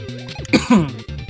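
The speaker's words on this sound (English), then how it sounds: "Sorry, I keep coughing." A person coughs and clears their throat a couple of times, close and fairly loud, with short bursts of throaty noise.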